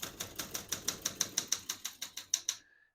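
Steady, rapid clacking of keys on a 1969 Olympia SM9 portable typewriter, about fifteen crisp evenly spaced strikes, close and clear, ending abruptly in quiet.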